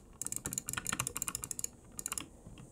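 Jitter clicking on a Glorious Model O gaming mouse: a fast, frantic burst of close, crisp button clicks, a brief pause, then a second quick flurry.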